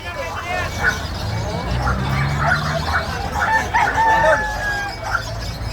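Chickens cluck and squawk at a muddy poultry market, with people talking over them throughout.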